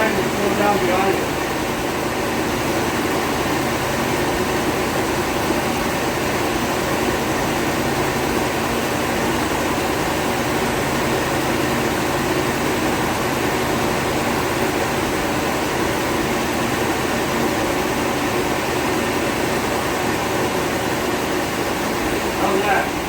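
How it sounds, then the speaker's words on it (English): A 1948 Ford truck engine idles steadily with a low continuous rumble throughout, fairly loud and unbroken, with faint background noise and no clear change in speed. "I'm gonna try to slow down the idle before putting it in gear."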